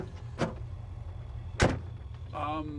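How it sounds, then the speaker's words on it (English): The door of a 1952 Chevrolet Thriftmaster custom pickup truck shuts with two solid thuds about a second apart, close by, followed by a faint mechanical whirr inside the cab. "I should shut my door properly"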